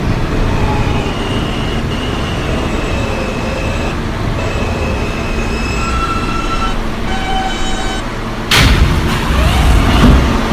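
Onboard a Manhattan-bound R160A subway car on the R line between Court Street and Whitehall Street, steady loud rolling rumble with faint wheel squeals and whining tones, then a sudden sharp burst of louder roar near the end.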